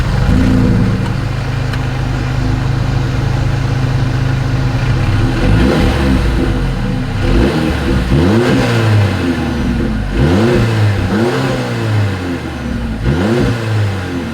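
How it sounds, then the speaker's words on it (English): A 2025 Mercedes-Benz CLA 250 four-door coupe idles, then its engine is blipped in a series of repeated revs, each rising and falling sharply, loud and close to the exhaust with no voices. "As always, here is that exhaust clip."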